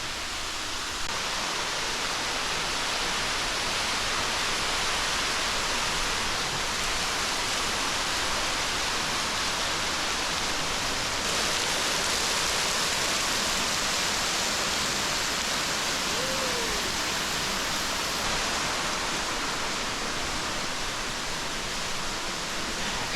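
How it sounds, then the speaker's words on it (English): A waterfall by Lake Kawaguchi, Japan, pours with a steady, full rushing hiss that stays constant and fairly close throughout, with no voices. "This waterfall is really impressive"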